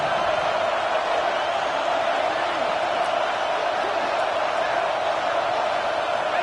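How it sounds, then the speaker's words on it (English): A large stadium crowd roars continuously from a distance at a Texas vs. OU college football game, a dense, steady wash of cheering and noise with no clear breaks. "And here comes the noise. This crowd is trying to inspire this defense"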